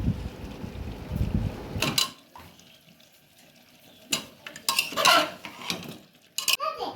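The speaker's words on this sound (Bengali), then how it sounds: "এরপর এই মাংসের সাথে আমি আলু দিয়ে দিচ্ছি, আলুগুলোকে ভালোভাবে কষিয়ে নেব মাংসের সাথে।" Potatoes and meat are stirred and fried together in a pressure cooker, a spoon scraping and clanking against the metal pot in several separate bursts over a low sizzle.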